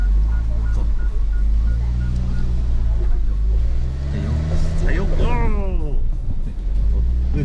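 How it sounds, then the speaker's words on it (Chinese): Tank 300 off-road SUV climbing a staircase: a low, steady engine hum under excited talk from people inside, with shouts of encouragement building toward the end. "接下来我们就是开这台车上楼梯，真的是上楼梯啊"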